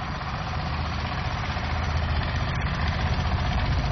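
A small boat motor at sea, with a putter like a hand tractor, runs steadily and fairly close, a continuous low rumbling drone with no talk over it.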